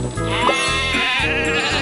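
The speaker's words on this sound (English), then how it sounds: "Some sheep have wandered off from the farm." Toy-game sheep bleat loudly and continuously, several overlapping wavering calls close by, with a steady tonal hum underneath.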